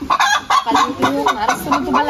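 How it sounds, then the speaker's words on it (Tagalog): A hen clucks loudly and repeatedly after laying an egg at a Philippine house-building site, the rapid, insistent cackling bursts coming close and nearly continuous, with faint talk beneath. "Ang ingay naman ng chicken manok na yan. Nangitlog yan."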